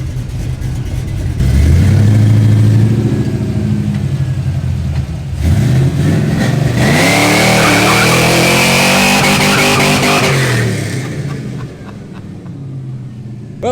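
Chevrolet K20 flatbed truck engine revving hard and accelerating up close, rising and falling in pitch across a loud drive, with a brief pause before revving again.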